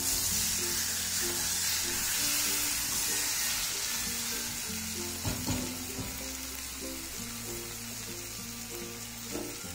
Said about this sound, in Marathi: आता ही रताळी आपण अशी तुपामध्ये थोडीशी परतून घ्यायची